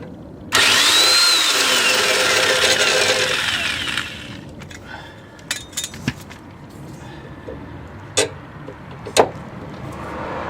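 Power tool whirs loudly for a few seconds while a 19mm sway bar link nut comes off a Toyota Corolla, followed by scattered clicks and clanks of loose parts.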